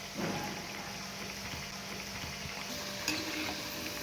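Alu vadi (colocasia leaf rolls) turned to their second side and fried golden brown in hot oil, giving a faint, steady sizzle with occasional soft bubbling pops.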